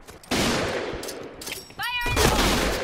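A Famas G2 rifle in the shooter Point Blank fires loud, rapid bursts of gunfire, one short burst and then a longer sustained volley, close and sharp.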